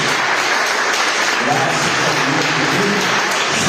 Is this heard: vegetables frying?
no